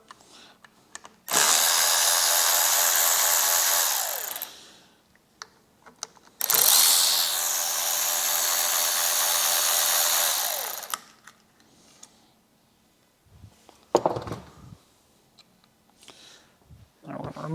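A power tool whirs in two long bursts, taking out screws on a Harley Davidson Electra Glide, each burst winding down at the end, followed by a few close clicks and clunks, with no voices.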